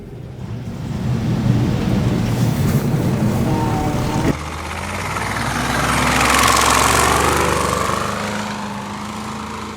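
Engine of a 1960s BRDM armored scout vehicle in Ukrainian service roars up as it lurches off in first gear, a loud, steady low rumble that swells and builds as the vehicle pulls away.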